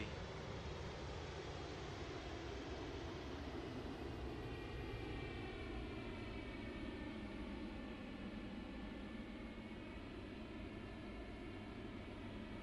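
A simulated FSLabs Concorde rolls out after landing in the Prepar3D flight simulator, with a continuous, even engine roar and wind rush held steady throughout, no talk.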